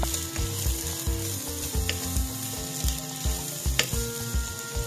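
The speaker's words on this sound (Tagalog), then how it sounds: "Pwede na natin lagay yung bawang, sibuyas at luya." Garlic, onion and ginger fry in hot oil with a steady, close sizzle, a faint scrape of stirring now and then.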